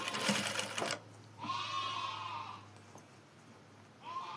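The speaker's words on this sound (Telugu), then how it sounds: "నిదానంగా కుట్టండి." A sewing machine stitching piping onto a blouse runs in short whirring bursts, close and fairly quiet, with pauses between runs.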